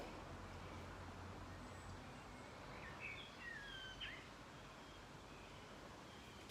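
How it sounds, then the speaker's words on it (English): Faint birdsong with a few thin chirps and whistles, distant over a constant outdoor background hiss. "Hear the birds singing."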